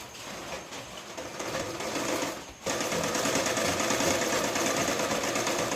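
Sewing machine stitching a princess cut blouse, a steady continuous whirr that pauses briefly near the middle and then resumes, close and fairly loud with no talking.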